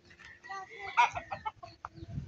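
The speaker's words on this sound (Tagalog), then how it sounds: "May manok ni tatay, panabong." A fighting rooster clucks nearby in short, irregular bursts, with a louder squawk in the middle, the calls fairly close and clear against a quiet outdoor background.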